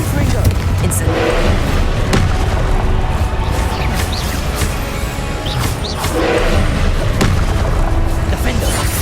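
Confringo and Incendio spell blasts in Hogwarts Legacy, a dense, loud run of booming impacts and crackling bursts that never lets up, with shouted voices mixed in.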